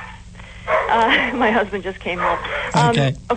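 A dog barks intermittently in a home during a live radio call, the sharp yaps mixed in with and partly under a man's ongoing speech, close and moderately loud.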